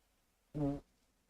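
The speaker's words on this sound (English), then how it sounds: "I just farted." A single short, low, buzzy fart, close and fairly quiet, in an otherwise silent room.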